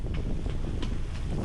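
Strong wind of about 10 m/s buffets a solo yacht sailing with two reefs in the mainsail, a steady low rumbling rush with faint splashing and creaks over it.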